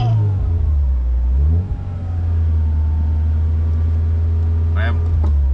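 Manual car engine goes from idle up to about 2000 rpm, a close, steady revving drone held for several seconds. A voice speaks over it briefly near the end.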